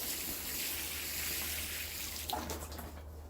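Water from a hose or tap rinses bugs off hibiscus plants outdoors, a steady, quiet hiss of spray with a faint low hum underneath.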